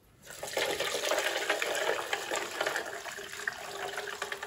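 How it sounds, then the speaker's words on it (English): Liquid being poured while cooking orange peel, a steady splashing, gurgling stream that runs continuously and fairly close, with no talking over it. "So now I'm going to pour it"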